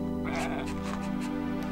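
Sheep bleating in the Dog's Life video game, a few wavering bleats repeating over a steady droning game background.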